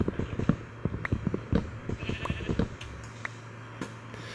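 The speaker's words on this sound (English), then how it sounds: "Wow, pink sheep everywhere." Sheep in Minecraft, pink-wooled ones in an amplified world, give a run of short bleats close by, clustered in the first half and then thinning to a couple of isolated calls over a low steady hum.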